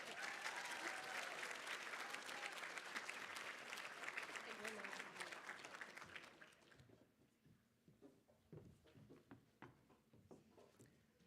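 A banquet audience gives sustained applause to outstanding students at a leadership recognition event, a dense full-room clapping that thins after about six seconds into scattered individual claps, with faint voices underneath.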